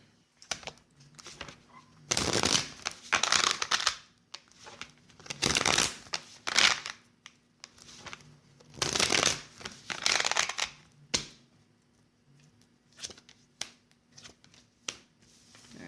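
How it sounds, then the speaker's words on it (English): Tarot cards get a bridge shuffle, riffling in several quick crackling bursts separated by short pauses, close and fairly quiet. "I'm being directed actually to do a bridge shuffle here, so that is what I'm going to do."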